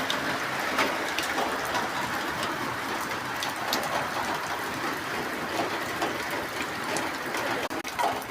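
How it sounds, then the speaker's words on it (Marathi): Sudden heavy rain pouring steadily outside a rural home, a dense continuous hiss with scattered clicks and knocks throughout, loud and close with no talk. "अचानक आला पाऊस"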